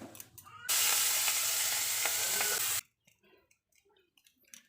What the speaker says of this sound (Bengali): আমি আগে মাছটা ভাজা করে নিই।